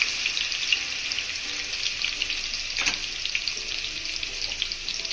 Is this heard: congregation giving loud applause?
no